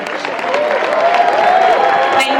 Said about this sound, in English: I think the applause indeed represents how everyone is feeling